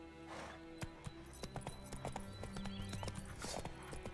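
Horse hooves clip-clop in The Witcher 3, a rhythmic run of hoof strikes with a whinny mixed in, heard over game music and ambience.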